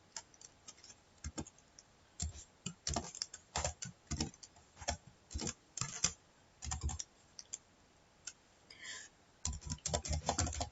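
Python code is typed on a computer keyboard in fast irregular bursts of close key clicks, separated by short pauses.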